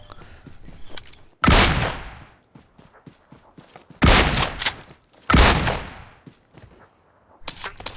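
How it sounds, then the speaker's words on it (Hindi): Gunfire in a mobile battle royale game, with several loud bursts of automatic fire separated by gaps of quieter clicks and small in-game sounds. "खैर जैसे तैसे विक्टर की आखिरी गोली में नॉक हो गया।"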